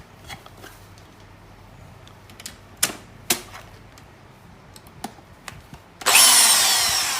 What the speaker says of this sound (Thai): สว่านไฟฟ้านะครับ